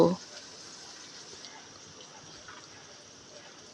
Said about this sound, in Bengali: এবার মশলাগুলোকে একটু ভেজে নেব।